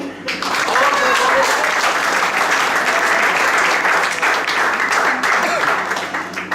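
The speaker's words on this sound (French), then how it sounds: "Sous vos applaudissements" Loud, sustained audience applause fills a tourism medal ceremony hall, dense clapping from many hands holding steady throughout with a few faint voices mixed in.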